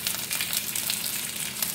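Thai-style moon shrimp cake frying in a pan, giving a dense, steady sizzle that holds evenly close up throughout, with no voices.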